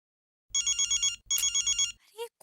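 A telephone ringtone rings in two loud electronic bursts, each a rapid pulsing trill, with a short gap between them, then a brief fainter tone at the end; no talking.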